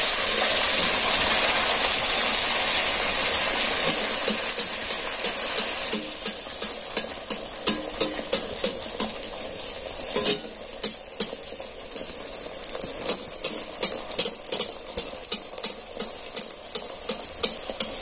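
Dough made from rice flour and green peas fries in hot oil with a loud, steady hiss, growing crackles and pops spreading through the sizzle.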